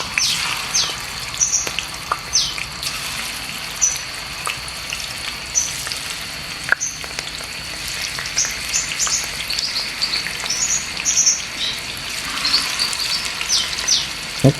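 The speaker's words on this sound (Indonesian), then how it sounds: "Goreng tahu dulu." Tofu fries in a pan, crackling and sizzling steadily up close with dense popping oil spatters throughout, while someone makes a quick Indonesian meal of bean sprouts and salted fish.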